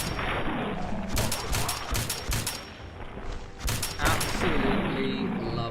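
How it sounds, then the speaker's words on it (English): Shotgun blasts ring out in Fallout 4, loud booming shots in quick clusters that merge into dense volleys, with a short lull midway before another burst. "I absolutely love shotguns and jets."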